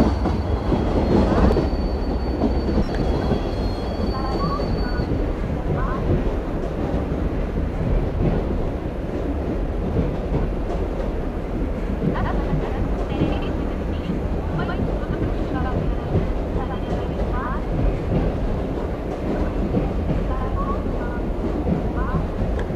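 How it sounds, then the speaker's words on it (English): A commuter train in the Indian Local Train Simulator mobile game rumbles and clatters steadily as it slows, with a brief high brake squeal at the start and loud rolling noise throughout. "It's time to bring the train to a stop."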